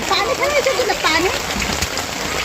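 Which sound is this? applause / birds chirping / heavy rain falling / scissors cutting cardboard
heavy rain falling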